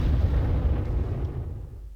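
A deep, rumbling explosion from bombing in the World War II strategy game Panzer Corps, a single low boom that fades out over about two seconds.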